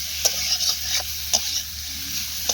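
Raw banana curry stirred in a hot pan, a spatula scraping in repeated sharp strokes over a continuous sizzle, close and loud with no talking.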